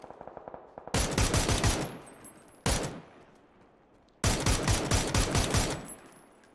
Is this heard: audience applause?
no